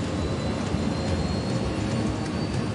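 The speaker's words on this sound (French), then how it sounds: "Quand on voit l'avion passer, on le sent et on l'entend, parce qu'il est bruyant et puissant." A Concorde's jet engines with afterburner roar past as a dense, steady, loud wall of broadband rumble and hiss, filling the whole stretch without letting up.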